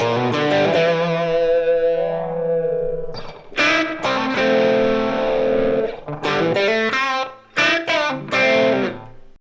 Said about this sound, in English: The way I designed this effect was I used Ableton's new echo effect